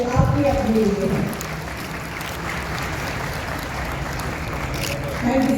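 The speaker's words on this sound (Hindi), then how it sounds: "बहुत जोरदार तालियां होनी चाहिए" An audience at a young start-up conclave claps, a broad steady wash of applause under a brief voice at the start and end.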